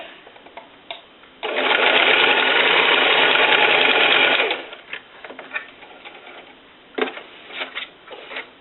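A sewing machine runs in one loud, continuous burst for about three seconds while stitching the raw edges of a clutch strap, followed by quieter handling clicks and fabric shuffling nearby.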